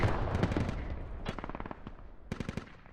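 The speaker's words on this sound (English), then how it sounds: "I just heard, I think that was a Hell Cannon." A Hell Cannon fires in the military shooter Squad, heard as several loud, booming blasts that come in irregular bursts and fade out with rumbling echoes.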